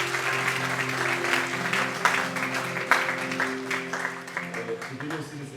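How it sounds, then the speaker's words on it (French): A church congregation applauding together, steady and dense clapping that fills the room, with a voice speaking over it. "Est-ce que vous pouvez acclamer pour vous-même?"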